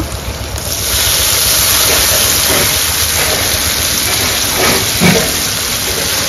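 Water poured into a hot pan of cooking with turmeric and salt bursts into a loud, broad hiss that quickly swells and then holds as steady sizzling steam, with no voices over it.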